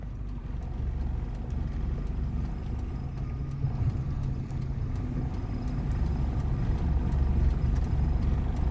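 A car's engine idles and creeps in reverse during a driving lesson, a steady low rumble held throughout with slight swelling toward the end, no talk.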